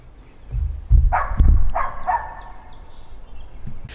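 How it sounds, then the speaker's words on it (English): A neighbor's dog barks a few times outdoors, moderately close, in short irregular bursts with whining yips, over background hum. "the neighbor dog is yelling at me"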